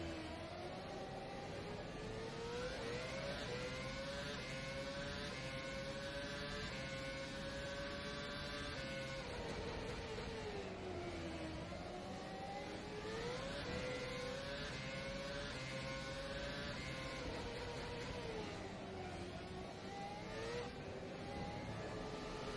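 Formula One car engine in rFactor 2 droning steadily on throttle, its high pitch sweeping up and down through gear changes and corners, continuous and fairly close with no voices.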